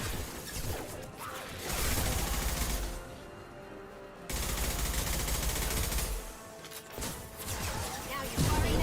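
Gunfire in the video game Mass Effect 2, bursts of shooting and crashing impacts that swell and drop in loud stretches, mixed with game effects and a voice talking.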